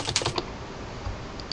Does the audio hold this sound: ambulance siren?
no